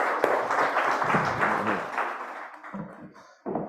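Seminar audience applauding at the end of a research presentation, a dense wash of hand claps that tapers off toward the end before a brief final burst.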